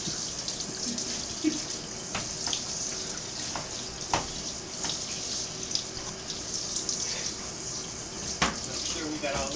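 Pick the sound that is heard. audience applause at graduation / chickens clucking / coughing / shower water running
shower water running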